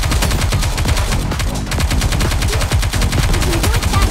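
Rapid automatic gunfire from the mobile shooter game Goddess of Victory: NIKKE rattles loud and nearly continuous, with dense overlapping shots and bursts over game music and effects.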